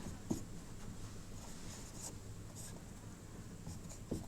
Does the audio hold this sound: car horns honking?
no